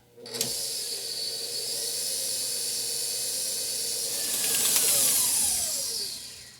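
A stand mixer with a paddle churns gluten-free cake batter just after flour goes in, a steady close motor whine running alone and swelling louder near the end.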